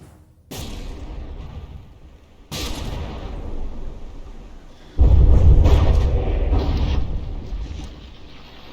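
A battleship gun volley in From the Depths: two sharp booming shots a couple of seconds apart, then a heavier, louder blast with a long low rumbling roar that slowly fades.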